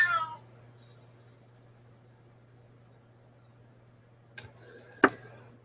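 A house cat meows once, faint and close, at the very start, then a low steady hum fills a quiet room, broken near the end by two soft clicks or taps.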